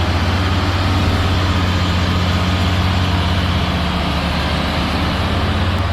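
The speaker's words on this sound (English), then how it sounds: "Two super long tractors, each carrying dozens of tons of cargo, are simultaneously conquering the harsh challenges of the mountain pass." Heavy, super-long tractor trucks hauling dozens of tons of cargo on a mountain pass, their engines a loud, steady low rumble and drone throughout, close by and without pause.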